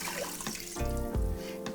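Chicken stock and a cup of water poured through arborio rice sitting in a strainer over a pot, a steady liquid trickle and splash with two louder gushes, close and with no talking.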